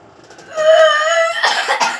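A child gives a drawn-out cough with a strained, voiced tone, followed by a couple of harsher coughing bursts, close and clear.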